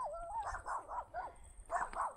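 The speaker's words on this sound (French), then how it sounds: "Les petits chiens qui participent à la vidéo." Small dogs bark and yip in quick, close, high-pitched bursts, a short flurry of sharp barks with a brief pause before a final pair.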